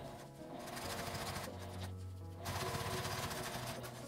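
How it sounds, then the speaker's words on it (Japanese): A sewing machine topstitches close to the folded edge of a turned fabric phone holder, stitching steadily and evenly up close for the whole stretch, with a brief easing of pace in the middle. "返し口を内側に折って端ミシンをかけます"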